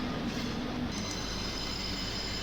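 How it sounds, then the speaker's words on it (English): A train that ran from Aachen pulls out of Cologne station, heard faintly from a distance as a low, steady rail rumble with a thin high metallic squeal. "here's the train that brought us from Aachen to Cologne on its way out of Cologne"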